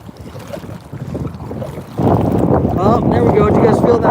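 Gusting wind and choppy water slap around a kayak out on the water near a cove. The rush is moderate at first and then swells sharply halfway through into a loud, steady roar with faint voices underneath.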